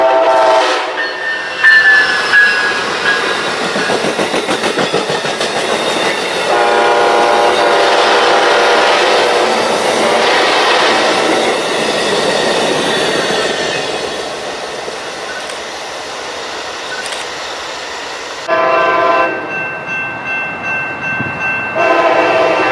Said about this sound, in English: They came equipped with Nathan K5LA air horns.